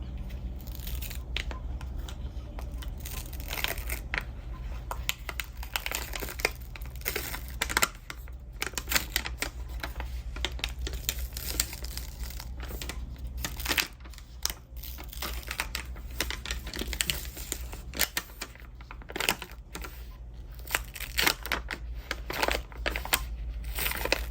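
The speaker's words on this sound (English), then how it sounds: "We're gonna start peeling." DTF transfer film being peeled off tie-dyed fabric gives a steady, close crackling and crinkling that runs continuously with dense irregular snaps and no talk.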